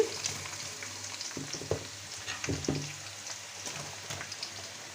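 Onions frying in oil for chicken pulao give a steady, moderately close sizzle throughout, with a few louder crackles and stirring scrapes near the middle and no voices.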